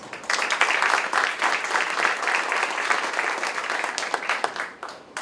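Sustained applause from a crowd, dense and even, clapping steadily for about five seconds before tapering slightly at the end.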